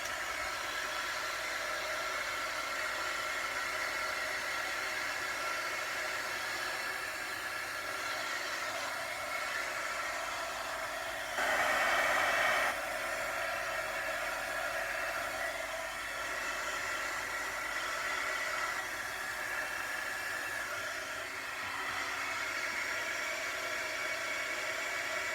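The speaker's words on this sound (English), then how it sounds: "I'm just going to get my heat tool out a little bit" A heat tool blows a steady, faint whoosh of hot air over a crafting medium to set it, continuing throughout with a brief louder surge near the middle and no talking.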